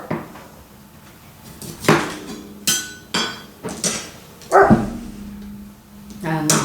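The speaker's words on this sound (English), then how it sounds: "My doggies have seen something out the window." Several dogs bark in short, loud bursts at something seen out of a window in a home kitchen, with a few sharp knocks mixed in among the barks.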